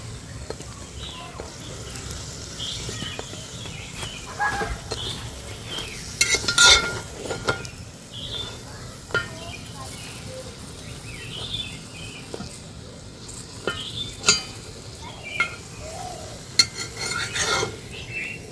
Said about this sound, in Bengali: এইভাবে করে সবগুলো ভেজে নেব।